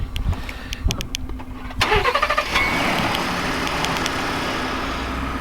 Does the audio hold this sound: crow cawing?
no